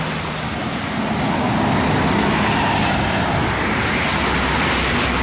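NPM and ANS long-distance coaches on the Trans-Sumatra eastern highway roar past close by, a broad continuous road rumble swelling slightly as they pass, with no talk.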